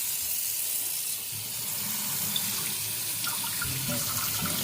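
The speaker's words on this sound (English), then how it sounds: "We're gonna wash this." Tap water runs steadily from a kitchen faucet into a sink as a homegrown tomato is rinsed under it, a continuous close hiss and splash with no talking.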